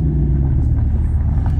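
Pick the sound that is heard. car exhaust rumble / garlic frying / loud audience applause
car exhaust rumble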